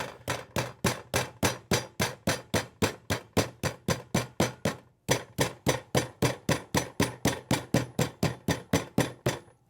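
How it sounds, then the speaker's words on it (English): Meat is pounded with a tenderizing mallet in a fast, even series of roughly thirty sharp thuds, loud and close, with one short pause midway. "you're going to tenderize it and you're going to break a lot of it down in the tenderizing process"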